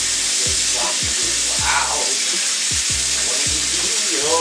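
A tablespoon is rinsed under a running kitchen tap, with steady rushing water and the spoon clinking and shifting in the stream.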